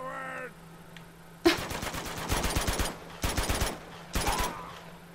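Gunfire in Uncharted 2: Among Thieves comes as several sharp, loud bursts of rapid shots separated by brief pauses, after a moment of quiet.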